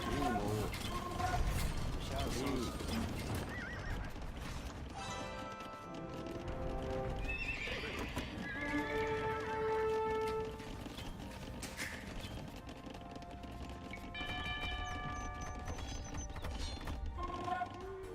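Horses of cavalry archer units in the video game Age of Empires, with repeated neighs and whinnies over clip-clopping hooves and clicking mechanical game effects, layered and busy throughout.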